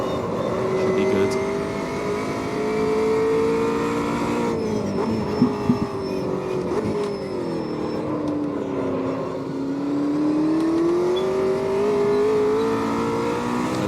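A McLaren 720S GT3 race car in Automobilista 2 on the Nordschleife, its engine holding a steady, loud drone that sags as the car lifts through a bend and then climbs again under acceleration, with a few brief clunks midway.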